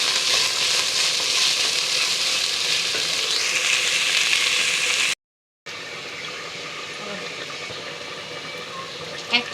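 Rice sizzles and fries with onions in a pan for pilaf, a steady loud hiss that cuts out briefly, then resumes.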